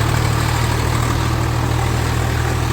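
A tractor engine idles steadily nearby, a loud, unchanging low rumble with a constant vibrating hum and no voices.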